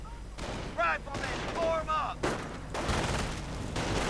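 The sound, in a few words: gunfire and machine gun in a WWII strategy video game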